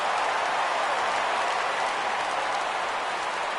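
A baseball crowd in a PS4 video game roars and applauds during a full-count pitch, a steady, broad wash of cheering that holds level throughout.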